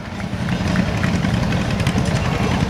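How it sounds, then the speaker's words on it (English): John Deere tractor engine rolling past in a town bicentennial parade, a close, loud, steady chugging rumble with a busy outdoor crowd wash around it. "Now, pulled by a John Deere tractor."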